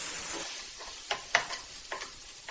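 Stirring coriander and chili powder into goat intestine frying in a pan, Kerala-style kudal fry, with a steady faint sizzle and a few sharp scraping clicks of a spoon against the pan.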